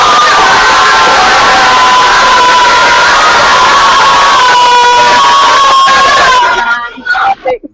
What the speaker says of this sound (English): Give us a wave and a cheer in your classroom, children